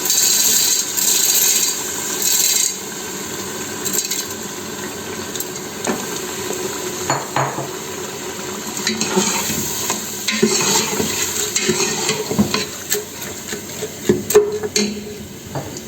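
Red kidney beans stirred into frying masala in a home kitchen pot, with steady scraping and stirring strokes over a continuous sizzle, close and moderately loud.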